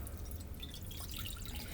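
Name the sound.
pouring water into a bowl for bubble solution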